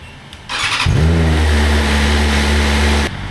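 A 2025 BMW S1000RR sport bike with its stock exhaust fires up after a brief starter whir. It catches quickly and settles into a loud, steady, close idle with a strong low drone before cutting off.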